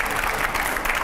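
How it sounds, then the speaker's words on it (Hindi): A studio audience on a Hindi TV news debate show breaks into dense, continuous applause, loud and sustained for the whole short stretch, with no talk over it. "तालियां प्लीज यहां पर।"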